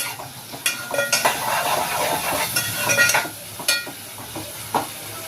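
Sliced onions sprinkled with salt sizzle and hiss steadily in a hot pan, with repeated clicks and scrapes from a spoon stirring against the metal.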